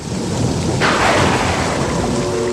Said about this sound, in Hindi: बादल गरजने, बिजली कड़कने के साथ बारिश शुरू हो गई